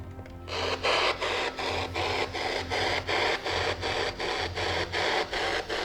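A ghost-hunting radio device hisses with steady white noise in a dark, quiet setting, pulsing in rapid regular bursts over a low hum with no voices.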